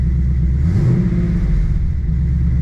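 A supercharged Lexus ISF engine idling steadily, a loud, constant low rumble with a slight swell partway through and no voices.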